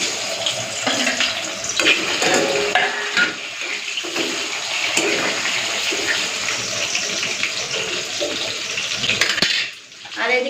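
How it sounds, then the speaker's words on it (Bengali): Starchy water poured off boiled rice, a steady splashing pour into a sink with some faint clatter of pots, easing off briefly near the end. "খালি ফেনাটা গড়িয়ে নেবো"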